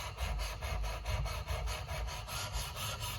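A steel wood chisel rubbed back and forth across a sharpening stone in a garage, making a steady rasping scrape in even repeated strokes, close and fairly faint over a low background rumble.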